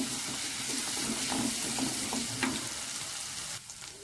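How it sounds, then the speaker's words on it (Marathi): Ginger-garlic paste roasts in a hot pan until reddish, giving a steady close sizzle with a few soft spoon scrapes from stirring, then a slight drop near the end; no talking. "हे पण छान लालसर होईपर्यंत भाजून घ्यायचं आहे"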